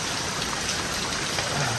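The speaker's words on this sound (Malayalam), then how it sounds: "ഭയങ്കര മഴ ഭയങ്കര ശക്തിയായിട്ടുള്ള മഴ" Heavy, powerful rain pours down in Thrissur in a steady, dense, continuous hiss with no breaks, loud and close, with no one speaking.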